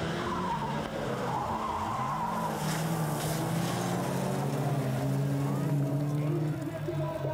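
A Toyota rallycross car skids and rolls during a 1994 European Championship race in Maasmechelen, Belgium: a loud, continuous engine roar and tire noise as a commentator talks over it.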